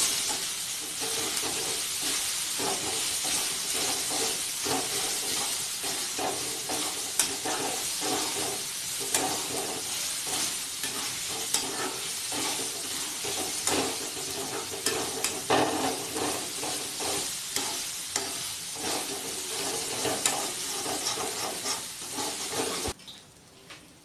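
Raw, unboiled green peas are stir-fried in a pan for an aloo matar kachori filling, a steady close sizzle and hiss broken by repeated scraping and stirring strokes that run throughout.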